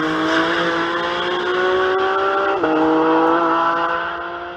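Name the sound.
sports car racing on a track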